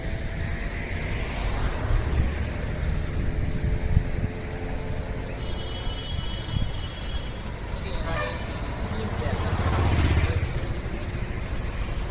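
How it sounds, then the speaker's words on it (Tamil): A friend's motorbike approaching along a road in Yercaud, its engine hum rising and growing louder toward the end, with people talking over the background noise. "அவர் வண்டி சவுண்டு கேட்குது"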